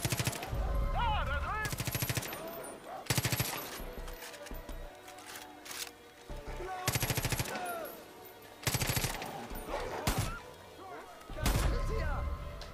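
Rifle fire in the video game Far Cry 5 comes in loud, rapid automatic bursts separated by short pauses, mixed with game music and effects, while a player talks in German over it.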